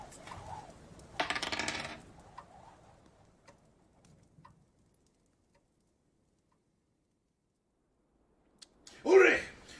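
Dice thrown onto a table, a short rattling clatter followed after a long quiet stretch by a second louder clatter, with faint vocal sounds nearby.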